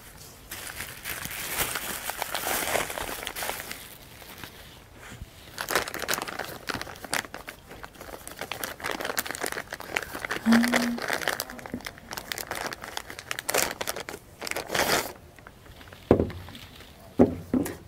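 An injector is unwrapped from two layers of packaging, including a blue rust-protection bag, giving continuous close crinkling and crumpling with rustling bursts and a few sharper tears throughout.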